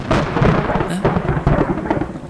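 A thunderstorm in an audio drama, a dense roll of rain and rumbling thunder that swells and churns continuously, close and loud, with no voices.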